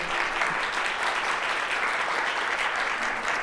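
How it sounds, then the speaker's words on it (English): Steady, dense applause from an audience after a software conference talk, a continuous wash of clapping at even loudness with no voices on top. "give him another warm round of applause"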